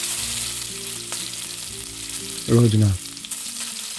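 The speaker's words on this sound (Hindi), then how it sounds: "ये देखिए आपके सामने हम कर लेते हैं फ्राई" Potato sticks fry in hot oil with a loud, steady sizzle and crackle, close up, and a brief spoken remark partway through.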